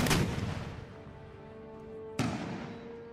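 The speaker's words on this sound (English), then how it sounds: "See if I can get you to pump some shrapnel shots into the breach." Artillery firing shrapnel shots in the Empire: Total War video game: a loud blast at the start that rumbles away, then a second sharp boom about two seconds later.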